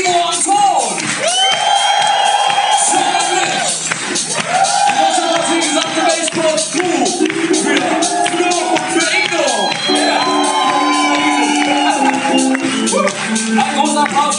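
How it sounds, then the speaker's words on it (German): Concert crowd at the Spectrum venue in Augsburg cheering, whooping and clapping after a performance, a loud, dense, sustained roar of voices and applause throughout. "Großen Applaus für Ivo und Ton!"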